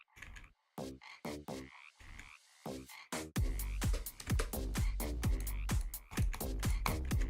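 Frog croaks in a rhythm video game level repeat in a rapid, regular pulsing pattern, sparse at first and then denser and louder over a pounding low beat, with no voices.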